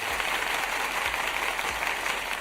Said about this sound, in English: Yes, the clapping.